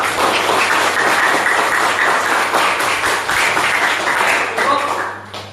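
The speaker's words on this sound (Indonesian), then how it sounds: "Tepuk tangan untuk kalian semuanya" A classroom of students claps together for several seconds at the close of a lesson, a steady wash of applause over a low constant hum, with a voice briefly audible near the end.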